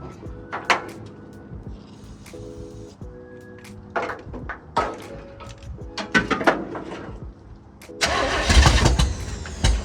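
Big block Chevrolet C10 pickup engine cranking with uneven bursts and clunks, then catching into a loud, rough start near the end; close by, no talk.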